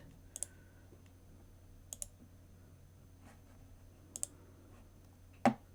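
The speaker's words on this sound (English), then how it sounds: "then we're going to click receive" Mouse clicks while working in a bitcoin wallet app, four sharp isolated clicks spaced a second or two apart over a low steady hum, the last one louder and nearer.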